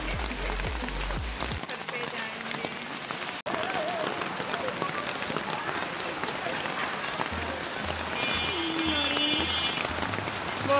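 Heavy rain pours down steadily at a college during a Saraswati Puja gathering, a dense continuous hiss of falling water with people talking nearby and some low thumping in the background.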